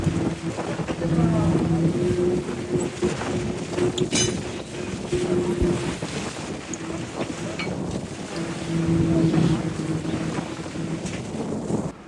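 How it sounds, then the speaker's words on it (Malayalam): Strong wind roars steadily across the open sea aboard a fishing boat, a loud continuous rush with gusts, over a low steady engine hum. "ആ കാറ്റിൻ്റെ സൗണ്ട് നിങ്ങൾ കേൾക്കുമ്പോൾ തന്നെ മനസ്സിലാവും എത്ര പവർഫുള്ളാണ് ആ കാറ്റ്"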